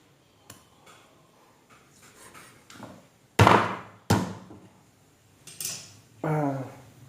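Several sharp knife chops and thuds on a cutting board while slicing beef offal, irregularly spaced, with a few louder heavy strikes and quieter taps between.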